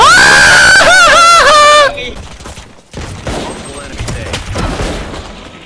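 Rapid bursts of gunfire from the video game Valorant crackle loudly in quick succession, then give way to quieter scattered game noise, with excited voices shouting over the action.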